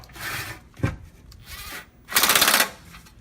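A 1/4 inch impact wrench snugging down transmission pan bolts on a Ford 4R70W transmission, with two loud close rattling bursts of hammering separated by quieter handling noise.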